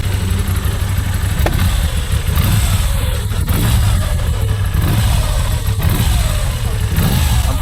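A touring motorcycle engine revved while the rider sits on it: a loud, close, continuous low rumble that swells and eases as the throttle is worked.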